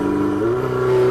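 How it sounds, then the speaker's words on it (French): Ferrari 488 GTB with a turbocharged V8 accelerating hard, a steady loud engine drone with the pitch climbing slightly over about a second. "Dès que l'on enfonce l'accélérateur, la livrée de la puissance est vraiment immédiate."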